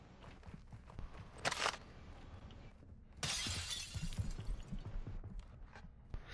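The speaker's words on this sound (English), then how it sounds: "Smashing glass upstairs." Glass smashing on an upper floor in Call of Duty: Modern Warfare II gameplay, two sharp shattering bursts, the second longer and louder, over a steady bed of game ambience and footsteps.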